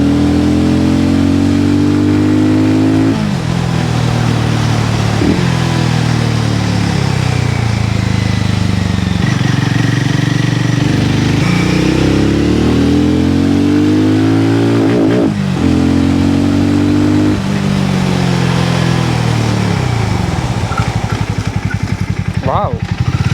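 A Hero Mavrick 440 motorcycle on the move: the engine loudly rises and falls through repeated accelerations and gear changes, each rev sweeping upward, with someone talking over it throughout.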